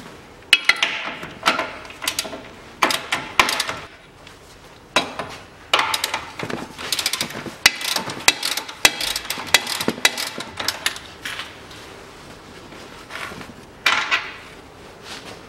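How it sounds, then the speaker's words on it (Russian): Bolts are undone on the front control arm of a Nissan Qashqai 2.0 while its rear bushings are replaced, bringing sharp metallic clinks, ratchet clicks and tool knocks in irregular bursts, close and fairly loud, with no talking. "Откручиваем болт, вытаскиваем и все, и смело снимаем уже рычаг."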